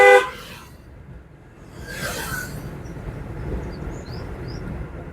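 A short car horn toot at the very start, then quiet road rumble with another faint honk-like blare around two seconds, during a driving lesson.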